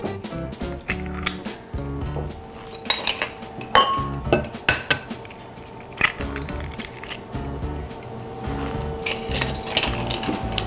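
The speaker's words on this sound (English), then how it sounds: "I'm going to give that a stir." Metal utensil stirring sugar, salt and other chocolate pudding pie ingredients in a bowl, repeated close clinks and scrapes in an uneven rhythm against the bowl's sides, with no talking.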